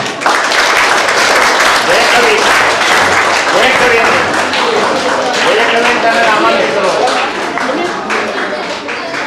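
An audience at a Kannada literary honouring ceremony for a writer and a poet breaks into loud, sustained applause, dense clapping filling the room close by and tapering slightly at the end.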